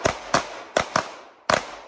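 Gunshots at a timed shooting competition at an outdoor games event: five sharp reports in quick, slightly uneven succession, loud and echoing, with no talk.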